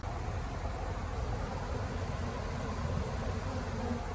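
A dense, steady hum of many honey bees buzzing close by, constant and unbroken, with no voices.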